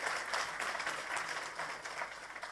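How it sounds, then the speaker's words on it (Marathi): A crowd at a gathering applauds for Dinesh Patel with continuous, fairly quiet clapping that stays even and unbroken throughout, with no voices. "त्यांच्यासाठी एकदा जोरात टाळ्या होऊ देत."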